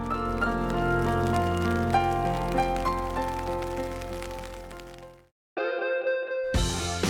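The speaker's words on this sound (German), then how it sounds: "Am Abend regnet es." Rain falls at night on and around a tent in the Pyrenees, a steady soft patter that breaks off into near silence and is followed by a few sharper, brighter sounds.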